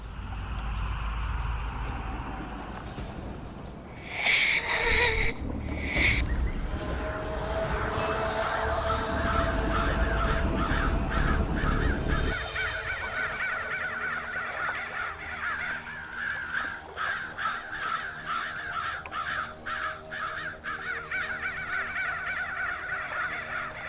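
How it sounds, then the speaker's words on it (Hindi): A large flock of crows cawing repeatedly and flying about, harsh overlapping calls that start loud and close, then continue as a busy, scattered chorus with some fluttering and background noise. "इतना सारा कौवा उड़ रहा है"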